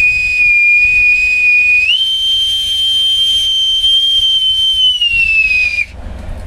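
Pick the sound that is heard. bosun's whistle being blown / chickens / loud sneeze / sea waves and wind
bosun's whistle being blown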